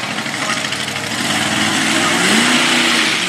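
A racing vehicle's engine revs hard on a dirt track at a motorsport event, a loud buzzing drone that climbs in pitch as the throttle opens, heard at a distance under an announcer's commentary.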